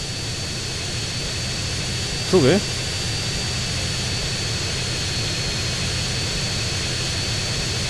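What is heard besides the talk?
stolen aircraft jet engine flying in GTA San Andreas video game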